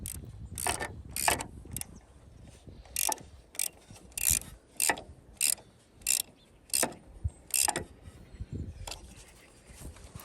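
A ratchet wrench tightens the bolts of solar panel roof hooks on their plates over roof tiles, with about a dozen crisp, close clicking bursts in uneven rhythm and short pauses between.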